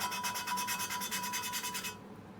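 Valve being lapped by hand against its seat on a Ford Pinto engine from a Cortina Mk3 2000E, a close, steady rhythmic rasping rub in quick repeated strokes that stops abruptly near the end.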